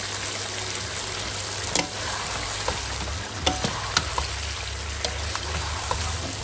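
Steady oil sizzle while cooking chicken karahi, a continuous crackling hiss with occasional sharper pops and spatters, close and fairly loud, with no voices.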